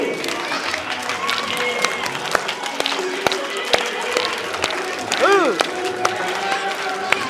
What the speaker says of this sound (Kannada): ಚಪ್ಪಾಳೆ ಹೊಡಿತಾ ಜಂಪ್ ಮಾಡಬೇಕು